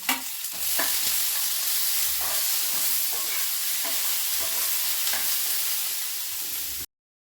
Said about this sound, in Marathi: आपलं हे खोबरं जे आहे आपण घेतलेलं ते मी भाजून घेते